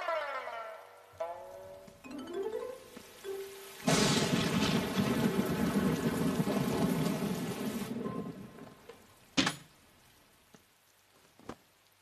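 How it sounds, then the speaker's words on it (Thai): A heavy downpour from a dramatized scene, first soft behind a music bed, then a loud, dense wash of rain for several seconds before easing, with a couple of sharp cracks near the end. "ฝนตกหนักเลย"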